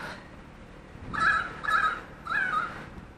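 A currawong gives three loud, harsh calls in quick succession, spaced about half a second apart, against a quiet background with no talking.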